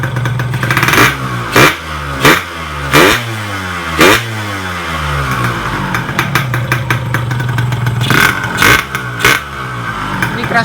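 A Yamaha RX King motorcycle engine with a knocking 'klotok' condition revs up close and loud in repeated throttle bursts, each rising and falling back toward a rough idle.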